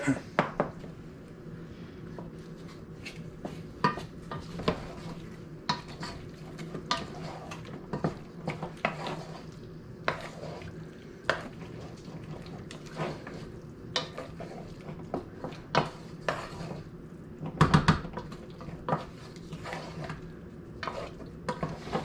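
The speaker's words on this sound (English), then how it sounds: "I just want to bring these back up to a simmer." A pot of food brought back to a simmer on a stovetop, with a utensil stirring and knocking against the pot in quiet, irregular scrapes and clinks, plus a few sharper taps.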